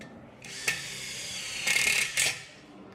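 A RETOOLS 450 Nm cordless impact wrench runs in a steady whirring burst, with sharper hammering surges near the end, close and alone.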